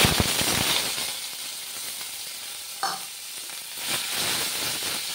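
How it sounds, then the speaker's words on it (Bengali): Radish mashed with black cumin frying in a wok gives a crackling sizzle that is loud at first, then settles into a steady hiss, with a brief clatter as more goes into the pan. "প্রথমে কড়াইয়ের মধ্যে দিয়ে দেবো কালো জিরে, এইবারে দিয়ে দেবো এই যে থেতো করা মূলো"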